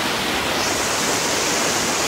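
A monsoon-swollen waterfall torrent at Ghatshila roars as a steady, loud, broadband rush of falling water that fills the scene without a break.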